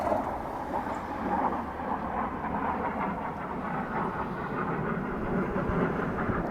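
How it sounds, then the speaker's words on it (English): A jet aircraft passes overhead a residential area in Utah, a broad, steady roar that stays loud and rumbling across the whole stretch without pause, with no voices over it. "we got a jet coming over"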